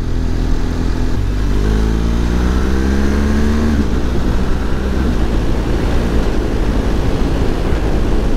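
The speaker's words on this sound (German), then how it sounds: "Man muss den Gashahngriff einfach null verändern und schaltet geschmeidig in den Cruisegang hoch." A BMW GS Adventure motorcycle engine runs loud and steady at close range while riding, its tone stepping through rising pitch sweeps and then settling as it shifts smoothly up into a cruising gear.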